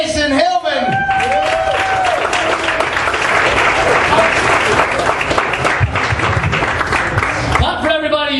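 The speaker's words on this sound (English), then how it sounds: "Clap for everybody you've seen, please." Audience at a stand-up comedy competition semi-final applauding a comedian: dense, sustained clapping from a crowd filling several seconds, with a few whoops and a host's voice at the start and end.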